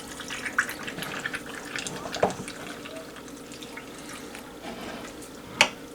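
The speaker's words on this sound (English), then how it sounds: "So for these, we are going to fill them with water like we did before." Water running into mason jars of fermenting vegetables, a soft continuous trickle with a few small clinks and drips over kitchen background noise.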